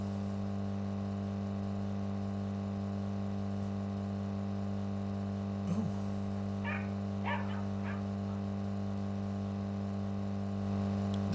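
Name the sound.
dog barking, from the video game Drive Beyond Horizons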